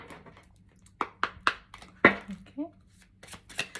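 A deck of tarot-style cards is shuffled for a reading, giving soft papery riffles and taps in short bursts, with a voice speaking briefly between them.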